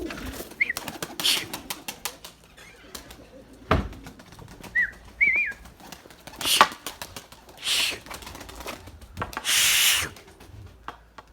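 Pigeons in a loft, including a white hen with newly hatched chicks, give scattered soft coos and brief bursts of wing flapping close by, with someone talking intermittently between the sounds.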